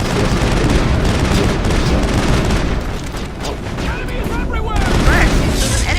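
Pistol gunfire in the video game Mass Effect, rapid crackling shots mixed with booming impacts and combat noise, dense and loud throughout, with voices talking over the action.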